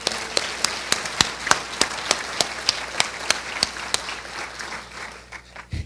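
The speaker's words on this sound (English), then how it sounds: "A big round of applause for all of them, please." Applause at an educational forum, with a few sharp, evenly spaced claps standing out over a softer bed of audience clapping that thins and fades toward the end.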